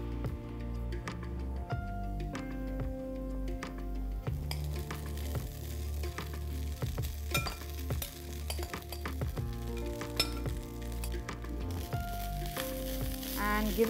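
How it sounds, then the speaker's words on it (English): Sabudana and cooked foxtail millet hit a hot pan and sizzle steadily, with repeated clinks and scrapes of a spoon stirring against the metal throughout. "Now it's time to add these ingredients to the pan."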